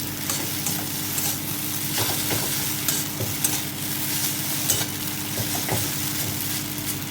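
Chowmein noodles stir-fried in a pan with chilli, salt and a little turmeric, giving a steady close sizzle with scraping, stirring strokes against the metal throughout, no voices.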